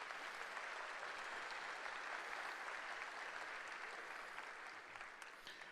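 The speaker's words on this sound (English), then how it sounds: "So give yourselves a round of applause for being scrapbookers." Steady applause from an audience gathered for a teacher-of-the-year event, dense and sustained throughout before thinning slightly near the end.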